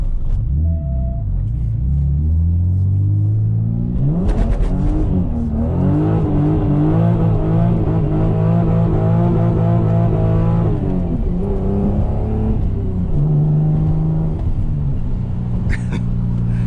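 A 5-speed manual Lexus SC300 accelerates hard in first gear, its engine note climbing steadily from a low idle rumble to a loud, strained rev before dropping off, heard from inside the car.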